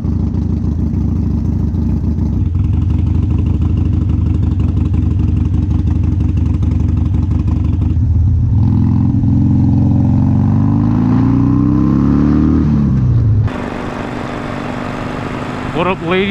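A Harley-Davidson motorcycle engine idles with a steady low rumble, then revs up and falls back in a rising, wavering surge before settling into a different tone, while a voice speaks over it.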